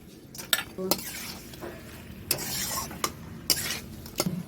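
Fried fish tipped into a pan of cabbage, with sharp metallic clinks and scrapes of a utensil against the pan over a low sizzle, a few distinct knocks spread across the moment.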